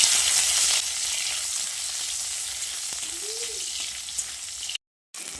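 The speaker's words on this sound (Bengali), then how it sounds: "তেল ভালোভাবে গরম হয়ে এলে টমেটো, আদা, কাঁচা লঙ্কার শুকনো লঙ্কাটা এর মধ্যে দিয়ে দিচ্ছি। দিয়ে এগুলোকে কিছুক্ষণ ভেজে নিতে হবে।" Tomato, ginger, green chillies and dried red chillies frying in hot oil, a steady loud close sizzle that eases slightly partway through and stops in a brief silent gap near the end.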